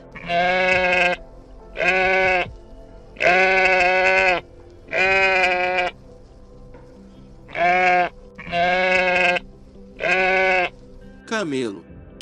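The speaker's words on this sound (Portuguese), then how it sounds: "Ovelha. Sheep." Sheep bleating close and loud, about eight long wavering baas in a steady series separated by short pauses.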